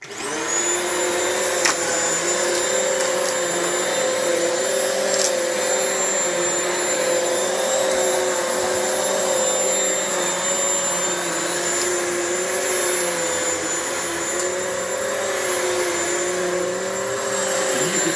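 A Hoover High Performance Swivel XL vacuum cleaner running steadily, its motor giving a loud, continuous whine with a constant pitch from start to finish and no talk over it.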